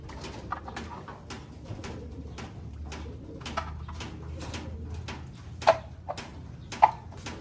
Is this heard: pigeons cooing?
yes